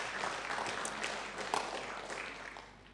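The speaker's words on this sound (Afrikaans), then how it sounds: "Kom, ons geef haar 'n hande klap." A church congregation applauds in a hall, the clapping soft and distant, a continuous wash of hands that gradually fades toward the end.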